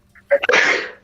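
One sharp, close sneeze during a tabletop role-playing game session, with a quick intake of breath before a burst that fades out.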